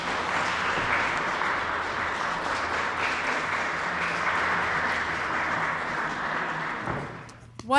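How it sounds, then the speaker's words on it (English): Sustained applause from an audience at a Kerala associations federation event, a thick, even wash of clapping lasting several seconds before it fades and a voice briefly starts speaking at the end. "Can we give a round of applause?"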